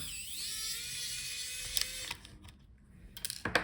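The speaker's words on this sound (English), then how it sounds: "Now take out the screw on the top." A small screw being removed from the Wi-Fi card inside a Lenovo Yoga 7 14IML9 laptop, with faint mechanical ratcheting and clicking from the screwdriver, quiet and close, followed by a few sharp taps near the end.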